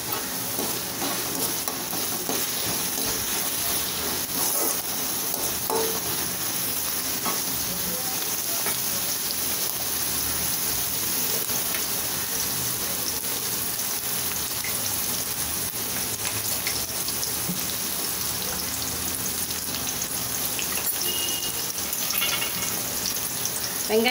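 Long, thinly sliced large onions frying in a pan on high heat for vegetable fried rice, with a steady close sizzle and occasional stirring scrapes throughout and no talk.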